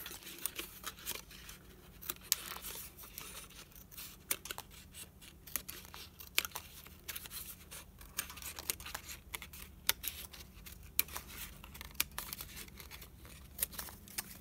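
Scissors snip through craft material for a DIY tool caddy, giving quiet, close cutting and crinkling sounds that repeat irregularly against a low steady background hum, with no one speaking.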